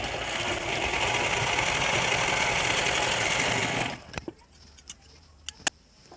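A sewing machine runs in a steady, continuous stitching burst through fabric while a placket strip for hooks and eyes is sewn, then stops abruptly, followed by a few sharp ticks and clicks.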